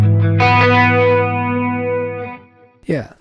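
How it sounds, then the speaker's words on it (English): A stereo chorus patch on a Zoom MS-100BT multi-effect pedal shimmers over one loud, sustained chord that rings and slowly fades, followed by a short vocal-like sound right at the end. "And the stereo chorus, which I use."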